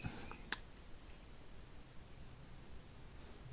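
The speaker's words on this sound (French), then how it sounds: "Là, on va prendre la pince. On tire bien. Et on va venir couper le surplus." Pliers snip through surplus fishing line on a surfcasting rig for mullet: one brief, sharp click near the start, then only faint rustling and near-silence.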